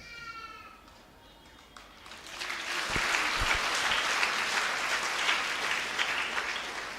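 Clapping from a church audience swells after a quieter opening with a brief high tonal sound and a few thumps, then settles into sustained, fairly loud, dense applause.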